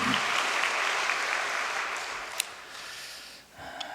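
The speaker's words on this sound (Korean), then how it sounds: "우리 다시 한번 축하의 박수를 보내십시다." Sustained applause from a church congregation celebrating an anniversary, a dense even roar of many hands that fades toward the end, with a brief breath or snort near the middle.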